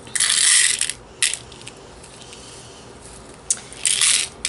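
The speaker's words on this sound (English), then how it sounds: "So we'll get these all in a cup." Small brass daisy spacer beads are poured into a little cup and land with bright metallic clinks and rattles, in two short bursts separated by a quieter stretch.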